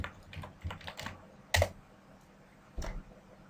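A computer keyboard is struck in short bursts of crisp, close keystrokes, scattered taps with a couple of louder isolated hits and pauses between, while a username and password are typed.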